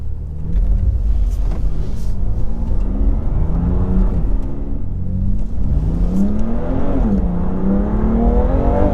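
BMW M2 engine droning from inside the cabin while driving on a bumpy B road, revs rising and falling through gear changes, with a low rumbling road noise underneath.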